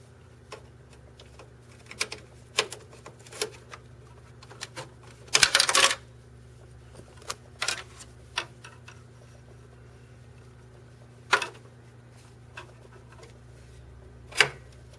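Parts are handled while the roller assembly comes out of an HP LaserJet 1100 printer: sparse plastic clicks and ticks, one longer scraping rattle, close and intermittent over quiet background, with no talking.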